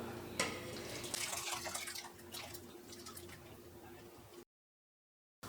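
Liquid poured into a simmering pot of sambar for an Onam sadya, a steady near splashing pour lasting about four seconds, then cut off abruptly into silence.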